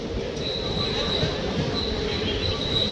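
A passenger train from Madurai Junction arrives at Rameswaram station after crossing the Pamban bridge, giving a steady rumble with a thin, sustained wheel squeal throughout at a moderate distance.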